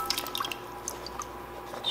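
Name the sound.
water draining from boiled sunchokes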